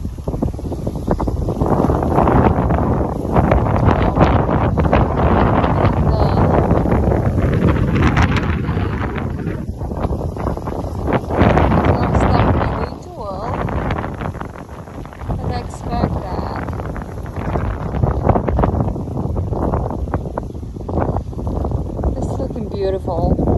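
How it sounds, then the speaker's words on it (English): Strong gusts of wind batter a garden of dahlia flowers on a stormy autumn day, roaring loudly and buffeting the microphone in surges that ease briefly midway. "it's a stormy day"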